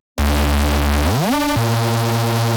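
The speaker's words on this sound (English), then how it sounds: "I added this Reese bass." A gritty, distorted Reese bass from a drum and bass drop enters abruptly, slides upward in pitch, then drops back to a thick buzzing tone that holds loud and dense to the end.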